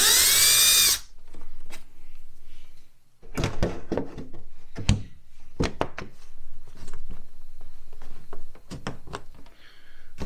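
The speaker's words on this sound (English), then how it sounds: "now we're going to go to a little bit bigger drill bit, and we're going to kind of work it towards me" A power drill fitted with a larger bit bores into an RC helicopter canopy (Super Scorpion), running in short, sharp bursts separated by brief pauses and small handling knocks, close up.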